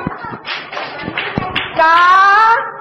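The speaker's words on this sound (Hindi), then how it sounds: "देखो, ताली बजाओ।" Children clap their hands in a classroom, a quick run of close, sharp claps under a teacher's voice, followed by a sustained sung or chanted tone.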